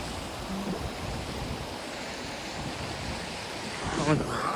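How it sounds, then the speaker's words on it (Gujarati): A waterfall pours water in a steady, dense rush that fills the whole scene at close range. A voice can be heard briefly near the end. "અત્યારે ભાઈ આવે છે એને હામા કાંઠે તમને નજીકથી ધોધ બતાવું"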